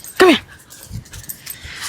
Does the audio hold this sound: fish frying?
no